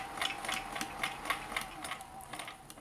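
Vintage Kenmore 158.1040 sewing machine running a long multi-hit zigzag stitch, a faint steady mechanical clatter with a regular rapid rhythm of needle strokes.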